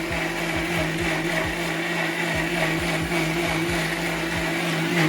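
A mixer grinder jar whirs loudly while grinding fufu. The steady motor drone carries a quick, regular pulsing churn, close up and alone.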